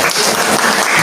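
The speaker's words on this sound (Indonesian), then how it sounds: "Tepuk tangan bagi anak-anak Tuhan yang sudah merasakan kasih Tuhan" A short burst of dense, loud clapping from a church congregation.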